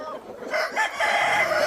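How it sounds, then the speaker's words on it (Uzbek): Roosters on a home chicken farm crow and cluck in brief agitated bursts at moderate distance, with a faint voice in the background. "Bir ikkita xo'rozlar urushyapti ana shular."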